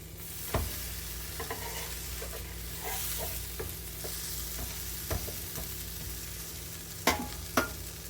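Chicken quesadilla frying in a pan just after being flipped, a continuous close sizzle punctuated by scattered utensil taps and a couple of sharper knocks toward the end, with no voices.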